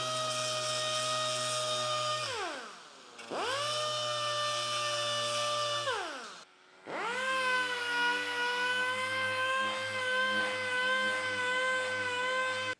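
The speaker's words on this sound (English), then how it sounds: "So I'm just gonna sand the outside and start polishing all this stuff" A power tool sands the outside of a vintage Porsche 356 hubcap with a steady, close, high whine that drops in pitch twice as the tool slows, pauses briefly, then spins back up and runs on.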